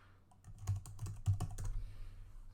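Quick bursts of typing on a computer keyboard, close and fairly quiet, a short run of uneven keystrokes with a pause near the end and no voices.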